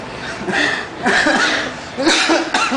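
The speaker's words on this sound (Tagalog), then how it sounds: "inuubo yung kanyang trainer" A boxing trainer coughs repeatedly at close range during a time-out in a boxing session, several short rough bursts with brief pauses between them.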